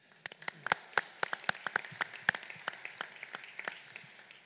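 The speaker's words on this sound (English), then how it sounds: "So please give yourselves a round of applause." Applause from a luncheon audience: a scattered round of individual hand claps, moderately distant, keeping an uneven rhythm for a few seconds.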